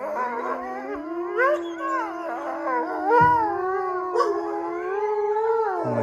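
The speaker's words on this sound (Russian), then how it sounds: "Очень редкие кадры, друзья, когда я здесь стою и все завыли." Several arctic wolves howl together in an evening park, long overlapping rising and falling howls from a chorus of animals, loud and sustained with a few higher yips and whimpers mixed in.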